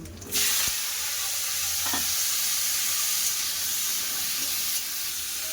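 Panch phoron, a cut dried red chilli and a bay leaf dropped into hot mustard oil, a loud sizzle bursting in at once and holding as a steady close hiss.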